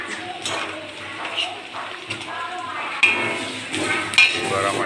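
Meat frying in a wok until browned, with a soft steady sizzle and occasional clinks and scrapes of a utensil stirring against the pan, close and moderately loud.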